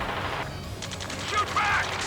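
Gunfire during a battle in Ace Combat 7, a short burst of rapid shots and mechanical clatter amid radio chatter, moderately loud over a low rumbling background.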